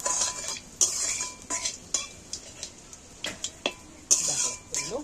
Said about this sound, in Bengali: দুটো 5 ফোড়ন দিচ্ছি, তেল দিয়ে দিচ্ছি